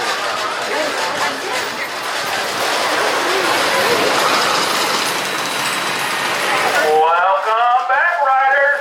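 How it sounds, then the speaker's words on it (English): Comet roller coaster train at Waldameer park rumbling along its track as a loud, continuous roar, then cutting off abruptly near the end as a recorded announcement voice takes over. "Please remain seated till the train comes to a complete stop."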